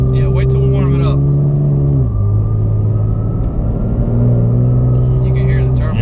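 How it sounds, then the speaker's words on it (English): A Porsche 991 Turbo tuned past 650 horsepower rumbles from inside the cabin, engine note rising and falling with turbo whine layered on top, while people talk over it. "You can hear the turbo."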